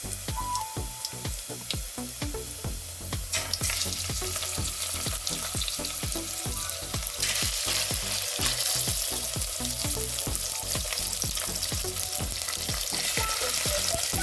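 Chicken breast fries with garlic in a pan, making a loud, steady sizzle with a regular rhythm of stirring scrapes throughout, and no one speaks.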